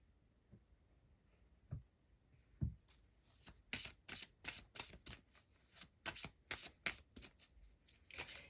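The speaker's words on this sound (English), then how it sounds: "let's get you a couple Wicca cards" Tarot cards are shuffled by hand at close range, a few soft knocks followed by a run of quick, crisp riffling bursts in an uneven rhythm, with no talking.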